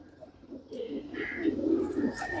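Paired parkench pigeons cooing close by in soft, rolling throaty calls, with faint chirps in the background and no talk.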